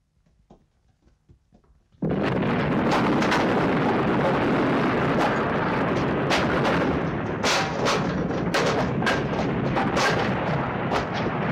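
A homemade bomb goes off in a Turkish comedy film scene: after two seconds of near quiet a sudden loud blast erupts, then a sustained roaring, crackling rumble with sharp pops runs to the end.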